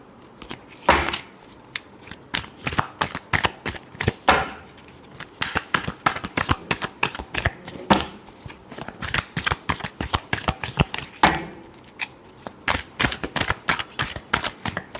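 Tarot cards shuffled by hand during a reading, a rapid run of crisp riffling flutters and snaps in bursts, close and clear with no talking.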